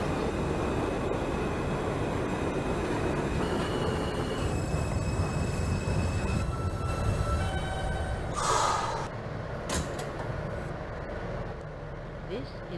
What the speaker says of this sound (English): This is a Bronx-bound D express train.